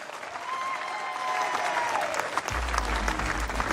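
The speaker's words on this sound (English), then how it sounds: "A big round of applause, Wales, ladies and gentlemen" A lawn bowls crowd at the 2016 World Bowls women's pairs final applauds Wales as world champions, a sustained, even patter of clapping from a moderately distant audience, joined by a low rumble near the end.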